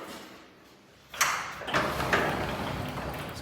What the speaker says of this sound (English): And let's lift the door up.